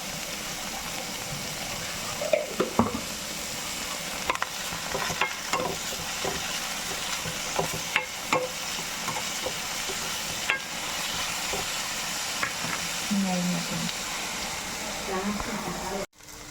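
Okra, green chillies and onion are sautéed in a pan, giving a continuous low sizzle with irregular scraping and stirring knocks close by, ending in a sharp clatter.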